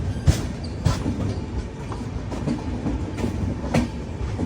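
Uday Double Decker train on the Chennai–Salem main line, rolling onto a bridge: a steady heavy rumble with sharp periodic wheel clacks over rail joints, loud and close, no voices.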